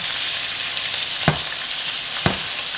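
Chicken sizzles and fries steadily in a pan, a constant crackling hiss with two sharp clacks of a utensil against the pan.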